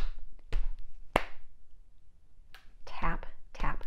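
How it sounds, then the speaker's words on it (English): Hands tapping laps and then clapping during a preschool song activity: a few sharp slaps and claps, close and moderate in loudness, spaced apart, with whispery voices in between. "In the first part, we tap our laps and then clap."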